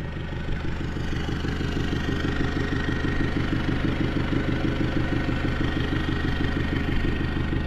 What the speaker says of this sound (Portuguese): Olha essa lenta.